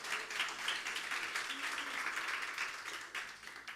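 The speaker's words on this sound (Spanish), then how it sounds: "Dale fuerte el aplauso al Señor." A church congregation claps and applauds during a Spanish-language sermon, a fairly faint, diffuse wash of clapping with a voice blended underneath.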